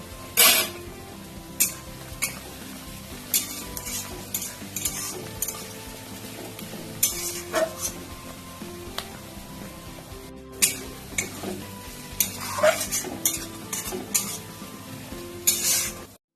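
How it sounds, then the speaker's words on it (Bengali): Chopped onions and dried red chillies fry in a pan with a steady sizzle, broken by repeated sharp scrapes and clinks of a spatula as they are stirred, close and fairly loud, with no voices. "পেঁয়াজটা দেখো হালকা ভাজা হয়ে গেছে"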